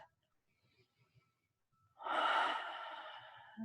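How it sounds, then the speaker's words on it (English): During a yoga backbending sequence, a person breathes in and out deeply: quiet soft breaths at first, then one loud, close, drawn-out exhale that slowly trails off. "So a couple big inhales and exhales."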